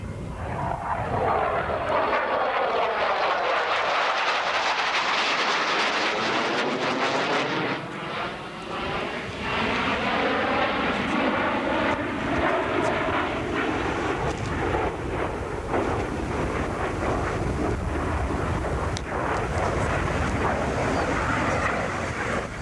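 A US Air Force Thunderbird jet overflies the airfield about 3,000 feet up, its engine roar swelling and then sweeping past. A strong falling whine follows, and a loud, steady rumble continues to the end.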